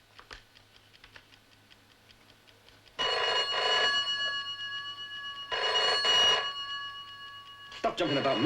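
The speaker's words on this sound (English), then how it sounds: "Answer the phone. You know I can't. Okay, okay, let it ring." A telephone rings in two long bursts close by, the trilling bell cutting in loudly over a voice talking.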